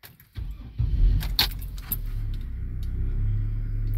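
A 2002 Chevy Trailblazer's starter cranks briefly and the engine catches, settling into a steady idle rumble close by, with a faint metallic jingle near the start.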